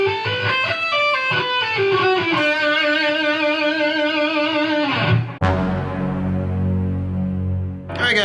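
Electric guitar plays a solo phrase from a song, with sustained, vibrato-laden bent notes ringing out, then a sharp pick attack and a low, heavier tone held to the end; loud and close with no talking.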